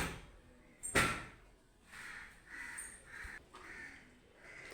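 Crows cawing around a rooftop food offering, several short harsh caws in a loose rhythm at moderate distance, joined by one sharp bang like a door or slam early on, with no talk.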